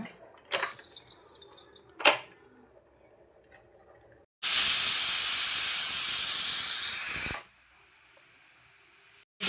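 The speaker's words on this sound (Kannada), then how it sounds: "ಈಗ ಇದನ್ನು ಒಂದೆರಡು ವಿಷಲ್ ಕೂಗಿಸ್ಕೊಳ್ಳೋಣ" A pressure cooker whistles on the stove while cooking huli uppittu, a loud sustained hissing blast of escaping steam lasting about three seconds after a few faint clicks, followed by a quieter hiss, with no talking.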